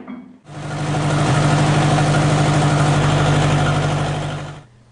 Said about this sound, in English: and the engine should start.